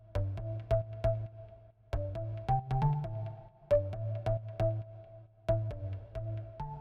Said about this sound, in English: So first off I'm going to start with a nice organ.